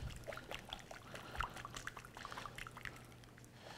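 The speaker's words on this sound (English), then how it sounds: "We're going to add maybe about 1/2 cup or so of oil." Oil poured and whisked into a vinaigrette for a farro salad, a soft continuous trickle with faint drips and light clinks, close and quiet under a low steady hum.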